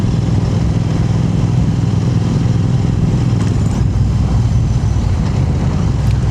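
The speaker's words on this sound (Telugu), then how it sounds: "యాక్సిలేటర్ కొద్దిగా ఎక్కువ ఇస్తుంటే సౌండ్ పెరిగిపోతుంది." Royal Enfield Interceptor 650 twin motorcycle with a Red Rooster aftermarket exhaust, a close, loud, deep burbling engine note held steady throughout, with no voices.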